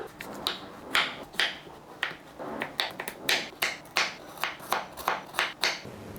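A knife chops a raw Kilimooku mango, about 150 grams, on a cutting board for mango chutney, giving a steady series of crisp, close chops at a quick, even pace.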